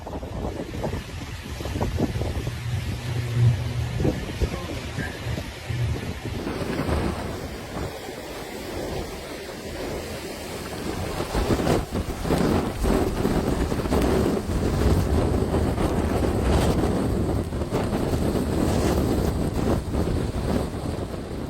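Hurricane Ian, a Category 4 storm with sustained winds up to 150 mph, batters the Florida coast near Fort Myers with loud, constant wind roar and gusting microphone buffeting, while surf and water churn underneath throughout.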